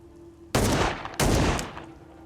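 Two loud bursts of gunfire in the video game Flesh Reborn in quick succession, each a dense rattling blast lasting about half a second, close and harsh.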